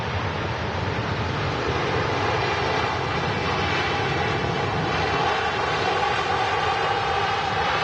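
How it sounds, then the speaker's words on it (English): An Emirates Airbus A380 touches down on runway 23 right at Manchester Airport, a steady, loud, broadband jet roar that holds evenly throughout without talk. "Emirates A380 touching down 23 right"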